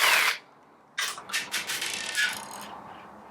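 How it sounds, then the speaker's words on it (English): Small Phillips screws being backed out of a white plastic gearbox housing on a chassis, with a brief rasp of a screwdriver, a pause, then a run of quick scraping turns and light clicks, close and fairly faint. "We're going to remove the 3 Phillips screws that hold the white gearbox housing to the chassis."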